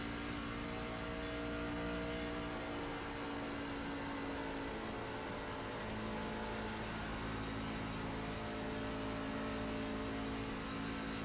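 Race car engines from the iRacing game drone steadily at a low level, a continuous even whine and hum without breaks or talk.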